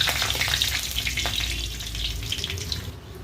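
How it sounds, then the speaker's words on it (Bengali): Bay leaves and dried red chillies frying in hot oil in a kadai, a steady, close, crackling sizzle that fills the moment, with a faint watery hiss underneath. "তেজপাতা, শুকনো লঙ্কা ভাজা হয়ে গেছে"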